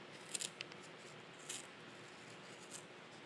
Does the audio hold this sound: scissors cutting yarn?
yes